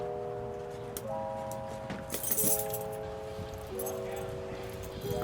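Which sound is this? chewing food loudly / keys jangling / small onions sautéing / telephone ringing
keys jangling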